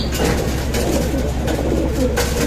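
Pigeons offered for sale coo in soft, repeated throaty murmurs against a continuous hum of background noise, several birds close together.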